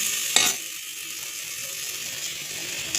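Roasted gram fries in a pan for mutton kuzhambu, a soft, steady sizzle heard up close with a couple of brief metallic clinks from stirring.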